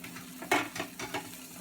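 Eggs cook in a pan with a soft sizzle while a utensil gives a few scraping, stirring touches, close and fairly quiet.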